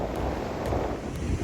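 Steady Mediterranean sea breeze buffets the microphone on a Tel Aviv beach, a constant broadband roar with faint surf mixed underneath, close and unbroken throughout.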